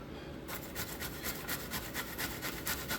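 Whole apples with skin on being grated by hand for apple strudel: steady, rhythmic rasping strokes, close and fairly loud, repeating evenly after a brief quiet start with no talking.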